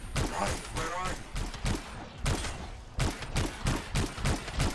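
A player's gun fires in the video game Anthem, loud repeated bursts of shots in a quick rhythm with short pauses between volleys.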